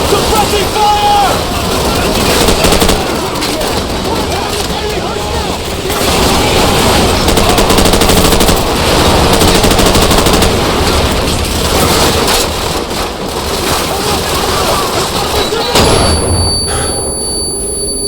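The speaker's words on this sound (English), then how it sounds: "Shut up and keep them pinned down! Roger that! Suppressing fire!" Suppressing machine gun fire rattles continuously in Call of Duty 4: Modern Warfare, with dense bursts of shots and booms and soldiers shouting over the battle noise throughout.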